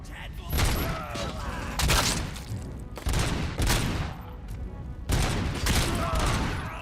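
A gun fires in the RoboCop: Rogue City video game, heavy bursts of loud gunfire arriving in several clusters with brief pauses between, echoing and mixed with mechanical clatter.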